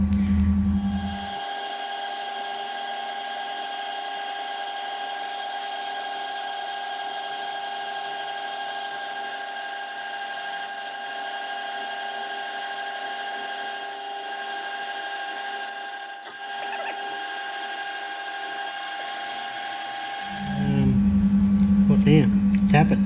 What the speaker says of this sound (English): So 9mm drill, gonna drill this out.